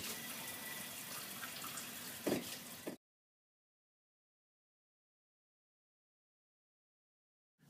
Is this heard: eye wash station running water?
yes